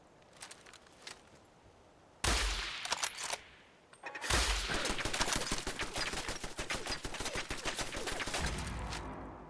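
Turret gunfire erupts in the post-apocalyptic game Fallout 4, with a short opening burst followed by a long, loud, rapid stream of automatic shots hammering away without pause.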